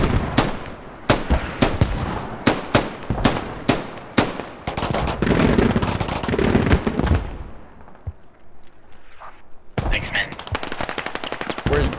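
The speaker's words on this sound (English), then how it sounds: "Oh my god, fucking ZSU is firing on us." ZSU anti-aircraft gun firing in the military shooter Squad during an urban siege, with loud rapid bursts of sharp, evenly spaced cracks, then a pause and another dense volley, with speech low in the mix.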